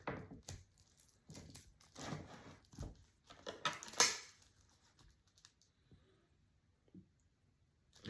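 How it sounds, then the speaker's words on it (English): Slightly rusty scissors cut open a cardboard box in a series of close, crisp snipping and crunching bursts that thin out into quiet. "I usually make the cut, you know, between there's a small gap in the box, so you don't damage the product"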